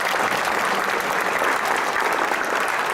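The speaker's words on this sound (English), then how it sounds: "them a round of applause" A crowd at a track and field banquet gives an athlete a round of applause, a dense, loud and steady clapping that fills the room without a break.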